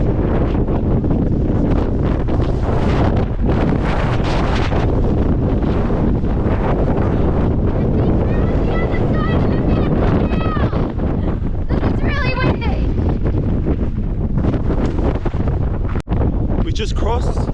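Strong, relentless wind outdoors in Scotland roars across the microphone, loud and buffeting throughout with a dense, constant rumble; a voice speaks briefly beneath the gusts.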